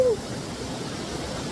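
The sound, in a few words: river water flowing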